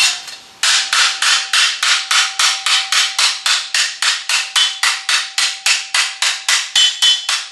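Steady rapid hammer blows flattening metal on an anvil, about twenty-five loud, ringing metallic strikes in even rhythm, close and alone with no talk.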